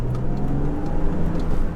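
A BMW Z3 with a muffler-delete exhaust accelerates, its engine giving a loud, steady raspy drone heard from inside the car.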